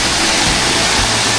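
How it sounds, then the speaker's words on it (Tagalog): Seawater rushes steadily along the shore of a storm-battered island at a seaside camp, a loud, continuous broadband roar with no gaps and no voices. "Narinig nyo ba yung aligasgas ng tubig?"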